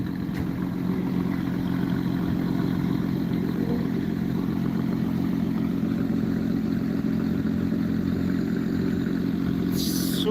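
A Lotus Exige 430 Cup with a 3.5-litre V6 idles at the Nürburgring. Its engine gives a steady, close, burbling drone throughout, with a brief clatter right at the end.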